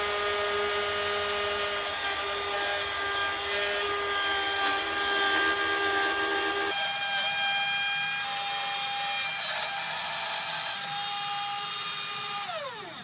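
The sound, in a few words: router plunge-cutting a lock mortise in wood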